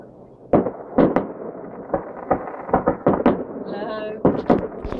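Fireworks for Valentine's Day in Lech go off in a series of sharp booms and crackles at a distance, some closer together, with a brief whistling streak; people talk between bursts.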